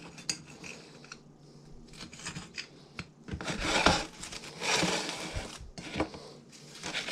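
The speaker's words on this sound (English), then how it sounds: "I don't typically try to cut with a butter knife, but I think it'll be all right." A butter knife saws through a toasted grilled cheese sandwich on a plate, giving irregular crunchy scrapes and clinks of metal on crockery in uneven bursts, close and fairly quiet.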